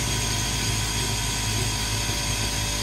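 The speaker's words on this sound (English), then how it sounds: "There's the compressor." Compressor of a gasoline-fuelled Tesla turbine jet engine with an atomizer flame tube runs at a steady, loud, unbroken roar with a low droning hum underneath, heard close up.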